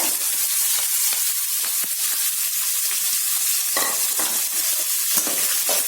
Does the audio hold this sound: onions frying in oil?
yes